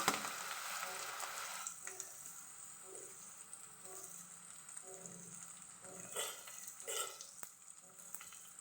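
Colocasia leaf patra frying in a tempering of sesame seeds, asafoetida and green chilli, a soft, fairly quiet sizzle with occasional stirring scrapes and brief louder crackles near the end.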